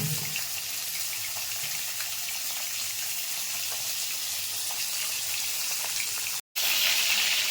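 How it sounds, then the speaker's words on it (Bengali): Hilsa fish lightly frying in a pan, a steady close hiss and crackle of oil that holds level throughout, broken by one very brief dropout near the end. "আমি প্রথমে হালকা করে কিন্তু মাছটাকে ফ্রাই করে নেব"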